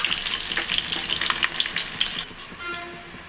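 Onions dropped into hot oil already crackling with mustard, cumin and fenugreek seeds for a fish curry, giving a loud, close, steady sizzle full of crisp pops that quiets and settles after a couple of seconds; no one talks.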